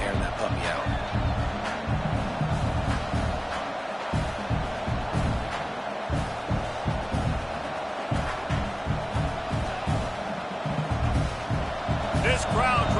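Stadium crowd roar at a college football game, a steady broad wash of noise with rising swells, heard beneath continuous play-by-play commentary.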